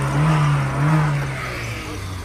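A car's engine hums close by at a Bishkek car market, swelling twice with short revs before settling into a steady idle.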